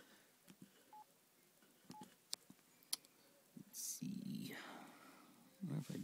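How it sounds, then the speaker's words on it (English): A phone keypad dials an old rave info line, giving a short series of distinct DTMF beeps spaced apart, followed by line noise and faint whispery sounds near the end. "But what does happen if we dial the info line?"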